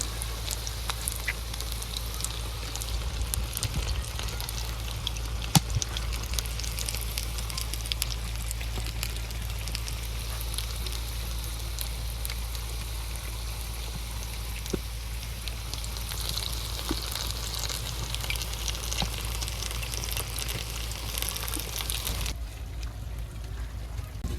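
Boiled eggs fry in hot oil in a simple village kitchen, giving off a continuous crackling sizzle that holds steady and then drops off abruptly near the end.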